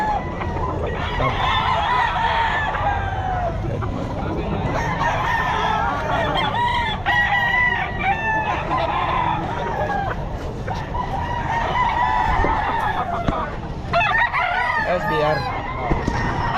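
Roosters crow repeatedly among a dense, loud chorus of clucking chickens at a crowded pet market, one of them a Golden Boy Sweater gamefowl, while people talk in the background throughout.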